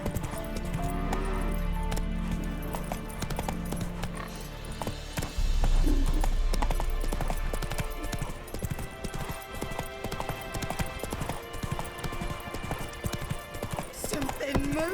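Roach, a horse in the video game The Witcher 3: Wild Hunt, gallops in a steady clip-clop of hooves under game music and intermittent voices. The hoofbeats stay close and prominent throughout.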